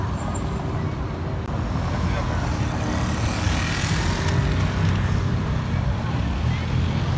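An MG GT turns in busy Paris street traffic near a Ferrari. Its engine is a moderate rumble within a steady wash of road noise from surrounding cars and heavier vehicles.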